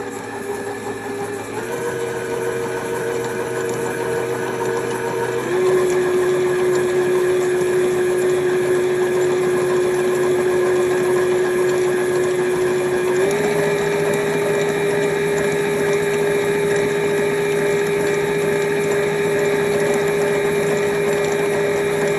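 An electric mixer beats tomato soup cake batter for a 1950s vintage recipe, a steady motor whine that steps up in pitch as the speed is raised twice, continuous and fairly loud with no talking.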